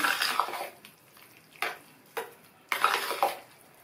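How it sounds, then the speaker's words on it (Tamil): A spoon stirs sambar rice with chopped coriander in a pot, producing a few distinct scraping, squelching strokes with short pauses between them, close and fairly quiet, with no talking. "நல்லா மிக்ஸ் பண்ணி விட்டுடலாம்"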